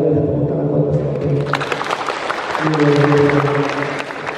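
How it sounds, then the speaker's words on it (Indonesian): Applause breaks out from a seminar audience, a dense crowd clapping that swells and holds, with a voice speaking over it at the start and again partway through. "saya boleh nggak minta tepuk tangan buat Mas Alde"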